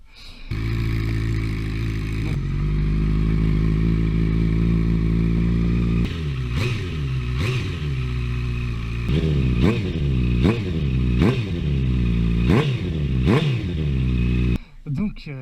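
Loud 2015 Honda CBR 650F Tricolor HRC motorcycle idling steadily up close, then revved in a series of sharp, rhythmic throttle blips that rise and fall, ending with an abrupt cut.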